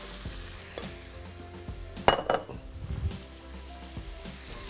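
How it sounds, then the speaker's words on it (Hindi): Bone-in chicken pieces fry and get stirred in a pot, a steady close sizzle broken by a burst of scraping, clattering spoon-on-pot strokes near the middle, then settling back to a low crackle with no voices. "और अब इसकी भुनाई हम करेंगे मज़े से"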